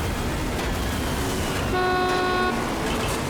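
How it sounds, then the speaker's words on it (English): Car horn honking in the racing video game MotorStorm, a single sustained toot of under a second sounding over a constant roar of engine and race noise. "Okay, I'm just honking my horn."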